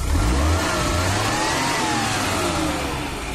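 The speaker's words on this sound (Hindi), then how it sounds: "तो फ्रेंड्स, ये गाड़ी स्टार्ट है।" Close and loud, a Maruti Suzuki 800 petrol engine runs after a starting-problem fix on its resistor fuse, revving steadily with a rising and falling whine before easing slightly toward idle.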